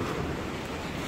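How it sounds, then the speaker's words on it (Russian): Rough sea surges with a steady, dense wash of breaking waves near a pier, loud and continuous with no voices. "Тут море бушует."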